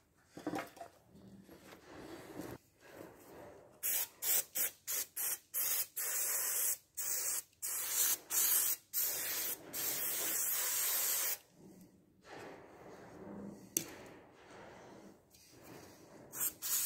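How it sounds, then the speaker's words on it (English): Steam washer spraying an oily car part from a Range Rover, a steady close hiss broken into many short bursts and pauses, loud and rhythmic with no talk. "fill up the steam washer and give this thing a thorough steam cleaning"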